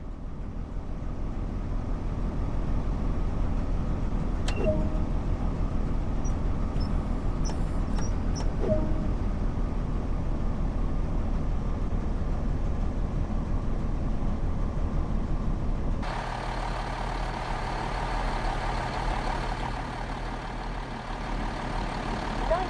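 BR Class 166 train in Train Sim World 2 pulling away from a stop: a steady low engine drone with a few faint clicks and beeps early on, then a broader rushing hiss as it gets moving.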